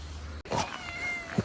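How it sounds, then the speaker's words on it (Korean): A cat gives a couple of short meows close by against quiet outdoor background noise. "야옹이가 따라왔어요"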